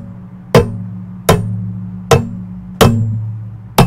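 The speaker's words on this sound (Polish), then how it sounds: "każde stuknięcie, dotknięcie czy szarpnięcie pałąka powoduje nieprzyjemny, metaliczny dźwięk wewnątrz słuchawek" Tapping on the aluminium headband of Cooler Master MasterPulse White Edition headphones makes five sharp metallic clanks at a steady pace, each trailing a brief hollow ring, close and alone.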